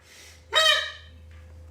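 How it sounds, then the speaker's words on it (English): Acrylic goose call with a plastic reed, blown once in a short, loud honking blast that fades quickly, with a constant low hum underneath. "that's called a goose flute"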